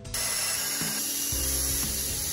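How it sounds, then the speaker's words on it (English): A power drill bores holes through a plastic container, a steady loud mechanical whir with shifting low tones as the bit bites and releases, running the whole time with no talk. "we are going to drill some holes in it so that this will allow it to drain."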